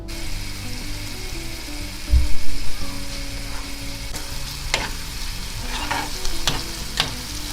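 Onions sautéing in vegetable oil in a pan make a continuous sizzle, with a brief louder rumble early on and then scattered spatula taps and scrapes as they are stirred.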